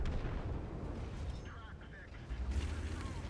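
Tank gunfire in the World of Tanks video game, with dense low booming impacts and shots landing around a tank, rumbling continuously and loud, with a brief lull before another burst of blasts.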